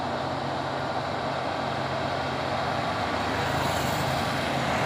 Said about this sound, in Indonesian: sudah lekas menanjak satu unit truk Fuso Losbak